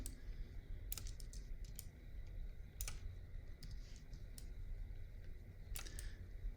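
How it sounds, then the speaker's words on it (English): Computer keyboard keys tapped while making a selection, a handful of sharp, isolated clicks spread unevenly over a faint background hum, close but quiet with no talk. "I'm hitting S on the keyboard, by the way, to do the selection"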